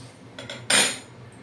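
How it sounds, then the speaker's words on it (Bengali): A lid clinks down onto a pot of mango chutney in a home kitchen, one sharp metallic clatter after a couple of softer taps, close by with no talking. "দেখুন জল দিয়ে দিলাম হ্যাঁ এবার আমি ঢেকে দেবো"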